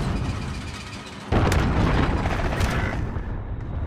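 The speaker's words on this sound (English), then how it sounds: "Enemy cruise missile!" An enemy cruise missile detonates in a combat video game, a sudden loud, broadband boom that cuts in and rolls on as a dense roar with crackling debris, over an already noisy battle background.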